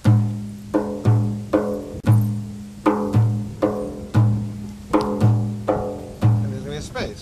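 A frame drum rhythm is shown at a workshop: eight or so resonant, booming strikes about one per second, each ringing out with deep tone and a brighter slap, played alone and close.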